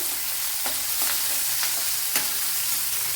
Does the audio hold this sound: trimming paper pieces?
no